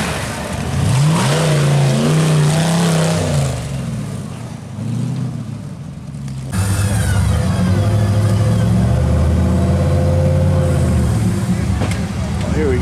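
A car engine revs as it drives up during a winter fabrication challenge, a loud steady roar that drops briefly midway then surges back strongly, with voices talking over it.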